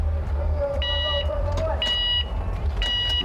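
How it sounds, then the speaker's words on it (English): Start beeps for a men's parallel slalom semi-final at a snowboard World Cup race in Moscow, three short, bright electronic tones at an even pace, sounding over low outdoor rumble and a commentator's voice. "We get the 3 reds and then the green, and the beeps welcome them onto the hill."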